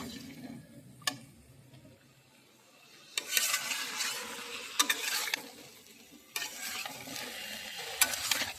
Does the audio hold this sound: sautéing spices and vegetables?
yes